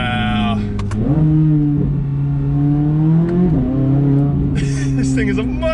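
A Chevrolet Corvette C8 Z06 engine screams on a race track, its steady high-revving drone dropping sharply in pitch at two quick downshifts before climbing again, loud and close throughout.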